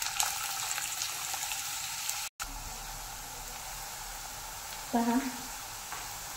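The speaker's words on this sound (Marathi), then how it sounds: "हा पूर्ण गोल्डन होईस्तोवर आपल्याला असा तळून घ्यायचा आहे, एकदम क्रिस्पी." Onion frying in hot oil in a heated kadai, a steady close hiss of sizzling that runs throughout, briefly cut off once, with someone speaking a word near the end.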